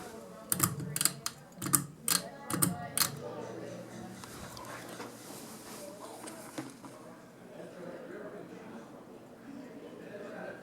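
A 52-inch Craftmade Universal Hugger ceiling fan running on high gives a quick run of sharp, close clicks in its first few seconds, then settles into a soft, steady airy whir.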